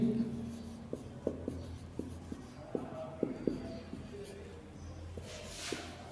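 Pen or marker strokes scratch and tap in short, irregular bursts while an English grammar lesson is written out, close and moderately quiet, with faint background noise.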